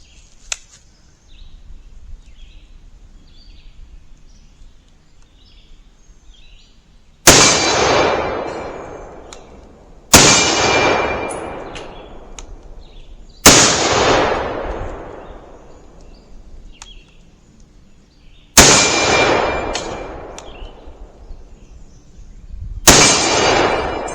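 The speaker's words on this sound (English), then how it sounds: "I'm going to shoot this on camera. You can observe the recoil and the muzzle flash and the muzzle blast, hopefully. I'm just going to shoot my steel plates." An M1 Tanker Garand rifle fires 30-06 outdoors at steel plates 50 to 100 yards away, with five loud, sharp blasts spaced several seconds apart, each followed by a long echoing decay over quiet background birds and insects.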